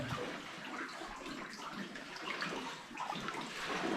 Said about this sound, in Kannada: ಇಲ್ಲಿ ನೋಡ್ಬೋದು ಗುಹೆಯ ನೀರು ಎಲ್ಲ, ನೀರು ಡ್ರಾಪ್ಲೆಟ್ಸ್ ಎಲ್ಲ ಬೀಳ್ತಾ ಉಂಟು